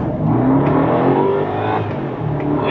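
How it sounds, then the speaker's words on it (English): A BMW 650i/750i launched in sport mode from a stop, engine revving hard to high rpm as it accelerates, a loud, continuous, close engine roar with rising pitch and no talk. "That goes pretty high revs, doesn't it?"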